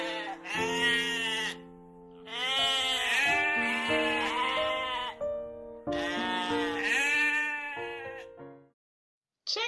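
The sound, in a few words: goat bleating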